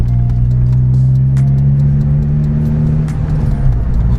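A car drives with a loud, steady engine drone close by, its pitch holding and easing slightly as it pulls forward, with faint clicks and rattles over the top and nobody talking.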